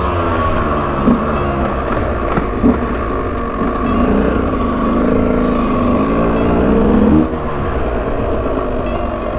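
A KTM 125 EXC two-stroke dirt bike engine runs steadily and loud and close, its buzzing note rising and surging in a few revs, with no talk over it.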